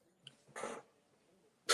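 A short throaty cough bursts out once, then a second rough cough starts right at the end, both close and fairly loud against near silence.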